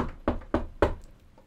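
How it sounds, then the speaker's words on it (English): Three firm knocks on a classroom door in a university film-school hall, evenly spaced and close, followed by quiet room tone. "and there's a knock."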